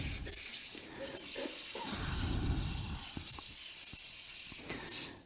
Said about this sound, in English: the technique of sanding is something we could spend hours of teaching each other